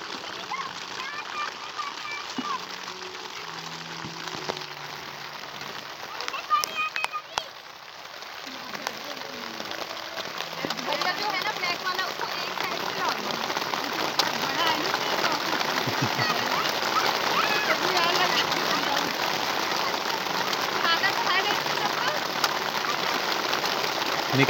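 Heavy rain at a jungle campsite in Uttarakhand starts fairly quiet, then swells after a few seconds into a dense, steady hiss that keeps building.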